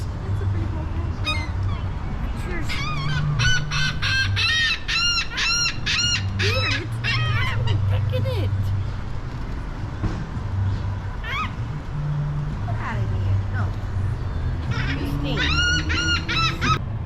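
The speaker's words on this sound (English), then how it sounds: "And there's our black swans." Black swans at a zoo-style park on a cold November day give a string of bugling honks in bursts, then again near the end, over a steady low background rumble and some talk.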